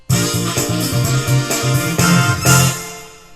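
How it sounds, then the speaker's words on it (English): A short Yamaha PSR-S500 keyboard auto-accompaniment ending number two: a rhythmic run of punchy chord stabs with bass and drums, closing on a loud final hit. "Number 2 ending will sound like this"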